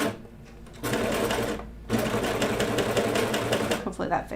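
A home sewing machine stitching fabric for children's pajama bottoms runs in close, loud bursts of rapid mechanical whirring, stopping briefly between runs, with speech present.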